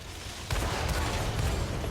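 A Centurion II tank firing in a tank combat game: a heavy booming shot lands abruptly, followed by a rumbling, dense low roar of battle that stays loud to the end of the short moment.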